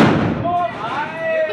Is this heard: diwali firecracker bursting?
yes